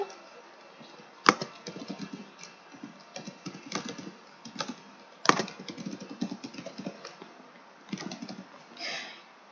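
Typing on a computer keyboard while writing an article: fast, irregular key clicks up close, with a couple of sharper louder key strikes, and no talk.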